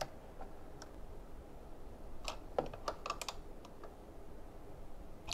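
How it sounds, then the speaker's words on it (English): 10 millimeter wrench retightening a car battery post, a few faint, sharp metallic clicks and ticks in a short irregular cluster, quiet and close with no speech. "now I can retighten it using this 10 millimeter wrench"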